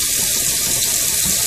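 Cold water running hard from a kitchen tap, a loud, close, steady hiss and splash with no break, no voices.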